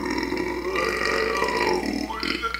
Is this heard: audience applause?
no